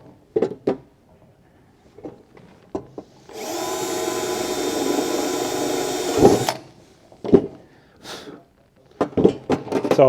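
A power drill drives a screw to fasten a guide onto sheet metal in a metal shaping workshop, one sustained whirring run of about three seconds, fairly loud and close, framed by scattered clanks and handling knocks.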